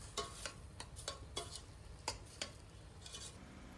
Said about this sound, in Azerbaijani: Üzərinə 1 yemək qaşığı un əlavə etdim və bunu yaxşı-yaxşı qarışdırıram